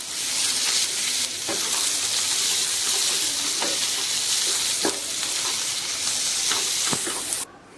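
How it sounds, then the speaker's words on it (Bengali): Small fish with salt and turmeric being stir-fried in a pan for a curry: a steady loud sizzle with repeated scraping strokes of a spatula every second or so, close up, without talk. "এটা এবার ভালো করে কষিয়ে নেব।"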